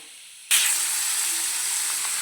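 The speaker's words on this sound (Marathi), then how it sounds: "यामध्ये मका कांदा गाजर आणि हिरवी मिरची घातलेली आहे तेल टाकून आपल्याला चांगलं भाजून घ्यायचं आहे" Corn, onion, carrot and green chilli drop into hot oil and burst into a loud, steady sizzle after a brief quiet moment, the hiss of frying continuing close and unbroken.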